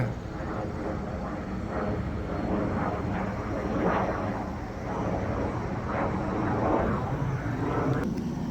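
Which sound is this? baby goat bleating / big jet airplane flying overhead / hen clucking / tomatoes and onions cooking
big jet airplane flying overhead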